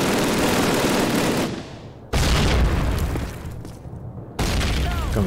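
A grenade blast in Call of Duty 1 booms loud and close with a heavy low-end rumble, then a second burst follows after a brief drop, set in a village-at-dawn battle.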